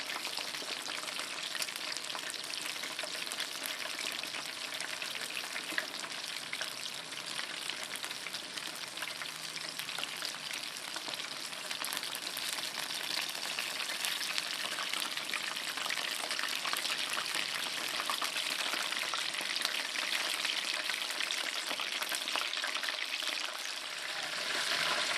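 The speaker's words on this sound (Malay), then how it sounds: "Dan terus menggoreng sampailah ayam tu betul-betul masak." Steady, continuous sizzling and crackling of chicken frying in hot oil, close up, with no voices.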